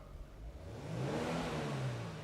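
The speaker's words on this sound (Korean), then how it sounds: "이 배기 소리 들리시죠?" A 3.3 turbo car engine revs up with a low, rumbling exhaust roar that swells and holds steady, heard from nearby.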